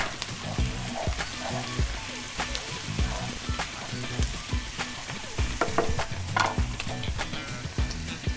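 Bell peppers and serrano chile sizzling in a frying pan for shakshuka, a loud close crackle with repeated scrapes and clinks of stirring and a voice talking over it.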